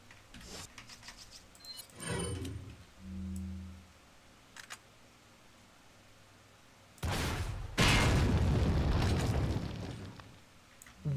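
Loud rocket-launcher blasts in the Destiny 2 video game: a short boom near the start, then two heavy, sustained explosions back to back toward the end, with quieter game effects between.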